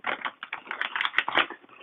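Tarot cards are shuffled by hand for a yes-or-no pick-a-card reading, giving a close, steady run of soft papery riffling and flicking with small rhythmic bursts, no voice.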